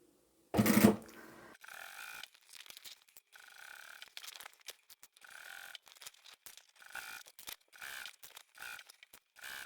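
Sewing machine stitching the side seam of a fabric basket on a free-arm machine, starting after a sharp loud burst, then running in short repeated bursts with brief pauses, close and moderately loud, no talk.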